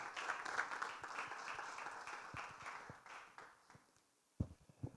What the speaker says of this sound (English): I think Dan deserves a slightly bigger hand clap than that.